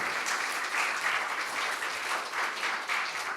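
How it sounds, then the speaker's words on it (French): An audience applauding a round-table panel at a Lean Construction congress, sustained steady clapping from a roomful of people with no break. "Je voulais vraiment que vous applaudissiez au maximum possible ce panel."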